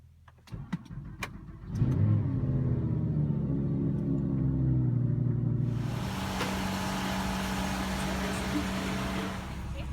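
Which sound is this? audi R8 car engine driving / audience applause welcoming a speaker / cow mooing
audi R8 car engine driving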